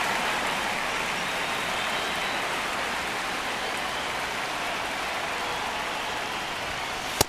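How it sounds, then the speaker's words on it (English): Steady rain falls on a ballpark during a baseball game in MLB The Show 26, a constant broad hiss held at an even level throughout, ending with a single sharp click. "It feels like we might be headed towards a rain delay if the weather doesn't ease up, Chris."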